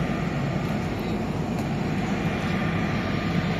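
An airplane at Jalgaon airport gives a steady, close engine roar with no breaks, a broad constant rumble lasting throughout.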